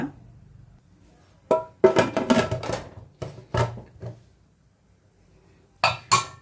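A metal lid clanks onto a pot of sambar in a home kitchen, a few sharp clinks and rattles up close, separated by quiet pauses, with more clatter near the end.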